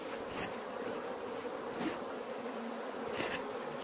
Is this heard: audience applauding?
no